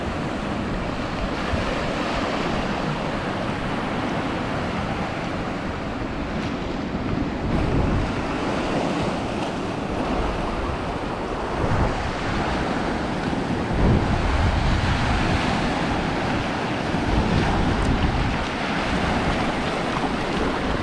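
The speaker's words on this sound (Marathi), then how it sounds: "पाणी इकडे पूर्ण वरपर्यंत येत आहे." Sea waves wash up a shore during a coastal fishing outing, a continuous roaring surf mixed with gusty wind buffeting the microphone, fairly loud and steady throughout with no talking.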